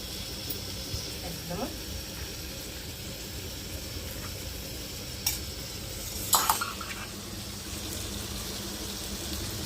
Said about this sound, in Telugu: కూర అంతా కలిపెట్టేస్తాం ఒకసారి అయితే